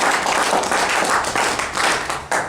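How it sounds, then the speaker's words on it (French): Wedding guests applaud in a steady, dense wash of clapping that stays loud and close throughout, with no voices standing out above it. "Applaudissez la merveilleuse"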